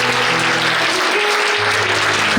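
A church congregation claps loudly and continuously during a Telugu Christian sermon, the dense applause filling the short moment with a steady wash while a sustained tone hums beneath it.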